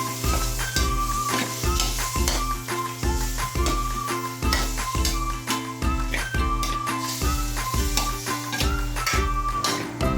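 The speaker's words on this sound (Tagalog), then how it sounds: "Haluin natin." Igado, a pork liver stew, sizzles steadily in a pan while a utensil stirs it in a repeating scraping rhythm, close and continuous throughout.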